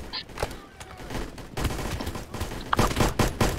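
Scattered gunfire and shots during an ambush in the BRM5 shooter game, irregular bursts of varying loudness mixed with other game noise.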